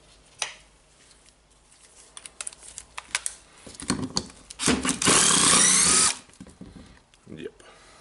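An impact driver works screws out of a Hitachi Koki DH28PCY hammer drill, with scattered clicks and handling noises before a loud, close rattling burst of about a second, then quieter tool clatter.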